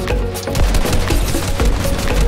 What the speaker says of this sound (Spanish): el Samina recibe de parte del Wisin un buen acierto con el fusil